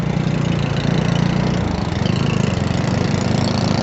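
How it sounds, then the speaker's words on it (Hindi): A Jawa 42 Bobber's single-cylinder motorcycle engine idles close by, a loud, steady low thump with an even rapid pulse throughout and no talking. "देखो सिंगल सिलेंडर इंजन के हिसाब से बहुत स्मूथ बाइक दे रखी है"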